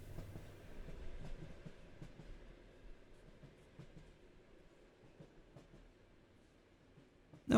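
A train sits at a station platform in a video game, a low rumbling rail hum with faint clicks, louder at first and fading steadily, ending in a sudden sharp sound.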